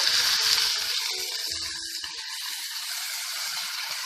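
Raw banana pieces fry with onions in hot oil, a steady close sizzle that starts with bursts of crackle and settles into an even hiss.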